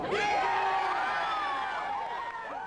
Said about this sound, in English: You guys gonna cheer real loud for all the women here?